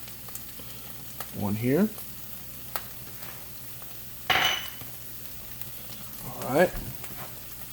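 Vegetables frying in a hot pan for a ramen dish, a quiet steady sizzle beneath occasional scrapes and clinks of stirring, with a person speaking briefly.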